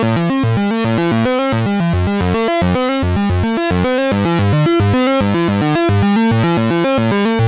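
A Moog synthesizer played through a vintage-style compressor plugin plays a steady, rhythmic sequence of tones with a dense, compressed, punchy character, loud and continuous throughout.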